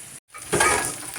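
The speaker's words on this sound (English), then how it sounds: "We cooked down our greens the rest of the way and fried up some bacon" Greens and bacon frying in bacon grease in a pan make a broad sizzle that drops out for a moment, then comes back louder and steady.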